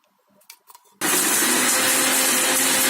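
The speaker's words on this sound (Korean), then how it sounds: "블렌더에 곱게 갈아줍니다." After a second of quiet light taps, a blender roars to life grinding Korean kimchi seasoning ingredients, a loud, steady, close whirring that holds without a break to the end.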